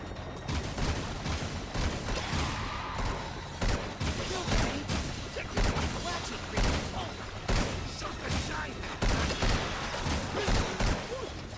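Gunfire in the action video game Jak 2, a dense, continuous barrage of repeated shots and crashes that runs the whole stretch at steady loudness, with a voice talking over it.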